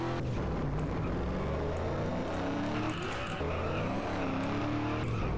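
Car engine from the game MTA DayZ drones continuously at close range, a steady loud motor note with shifting pitch as the smoking car drives along.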